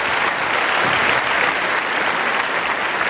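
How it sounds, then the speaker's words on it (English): Steady applause from a studio audience greeting a podcast guest, a dense even wash of clapping filling the full three seconds with no talk over it. "Let's give a round of applause, Mr. Walter Holmes."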